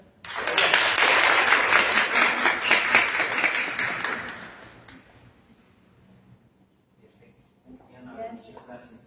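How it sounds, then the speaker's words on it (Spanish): An audience at a bioethics conference gives a warm round of applause welcoming a speaker, loud and sustained for about four seconds before dying away into quiet, with a few faint voices near the end. "Le damos un caluroso aplauso y bienvenida al maestro Rodolfo."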